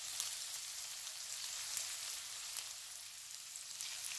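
Sausage meat pulled from its casing sizzles in a pan with onions and apples, a faint steady hiss with occasional small pops and crackles, no voices.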